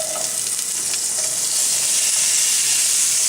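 Onions dropped into a hot pan for a curried chicken radish noodle stir-fry hiss in a loud, dense, continuous sizzle, close up and steady, with no voices over it.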